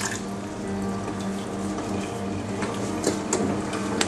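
Water from cooked noodles pours and splashes out while being drained in a kitchen, a continuous rushing wash with a few louder spatters near the end, close and loud.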